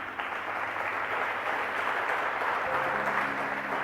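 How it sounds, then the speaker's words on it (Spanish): Church congregation applauding during a service, a continuous broad wash of clapping from many hands, steady and fairly loud throughout, with a low sustained tone underneath. "¿Quiénes aplauden la gloria de Dios?"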